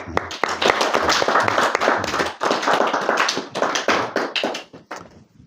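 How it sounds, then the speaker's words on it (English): An audience at a talk for teens claps in a burst of sharp, close, uneven hand claps that thin out and fade near the end. "we will give her one applause"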